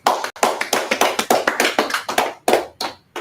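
Hands clapping at a community class gathering: a series of sharp, close claps in a quick, fairly even rhythm, with one or two brief gaps, and no talking over them.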